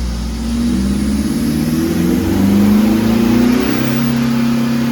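A remapped Mitsubishi Triton pickup with a stock 2.4 MIVEC engine revs up loud and close, its note climbing steadily and holding high, with the rev limit set around five thousand rpm.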